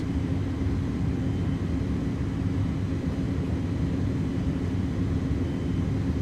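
Airbus A300 thrust reversers on landing in Microsoft Flight Simulator 2024, heard as a steady, broad rumbling roar of engine and rollout noise that stays constant with no talk.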